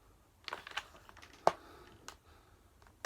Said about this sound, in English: The official Sega Dreamcast keyboard.